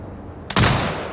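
A mounted turret fires in Sniper Ghost Warrior Contracts 2: a single loud, close blast breaks a quiet game backdrop, then a sustained roaring rumble and crackle fill the rest of the moment.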